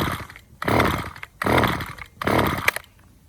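A Stihl string trimmer's small two-stroke engine, freshly refuelled, catches in three short rough bursts of about half a second each, sputtering loudly and dropping away between them as it fails to keep running.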